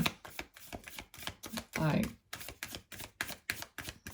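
Rapid, crisp clicks and riffling snaps of cards being shuffled, fast and irregular, with a voice briefly speaking partway through.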